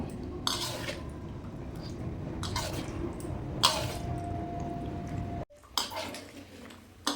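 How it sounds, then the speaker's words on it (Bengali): Chicken korma meat sizzles in a pot over high gas, a steady frying hiss broken by several sharp scrapes and clatters of a spoon against the pan. "গ্যাস জোর দিয়েই আমি মাংসটা কষে নেব।"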